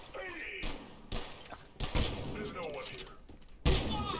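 Enemy shotgun blasts in the video game Abiotic Factor, several sharp, loud booming shots at irregular intervals amid busy game noise, with a player talking over them.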